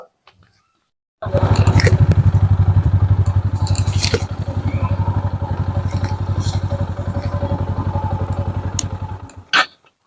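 A motorbike in a rural Sylheti village starts and runs close by, its engine thudding in a fast, steady putter for several seconds, then a brief louder rev before it cuts off, with clattering and scraping over it.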